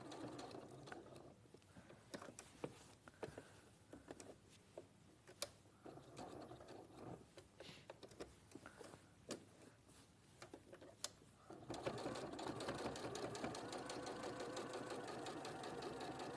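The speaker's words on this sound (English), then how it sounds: "So we just want to stitch nice and close to the edge." Sewing machine stitching along the edge of a denim pocket, a steady mechanical whirring and clatter in bursts for most of the span, then a louder continuous run near the end, with no talk.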